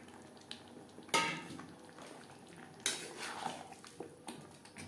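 Boiled potato and green jackfruit get stirred into spice paste in a pan, a spoon scraping and knocking against metal in a few sharp bursts over a faint background sizzle, fairly quiet with no voices.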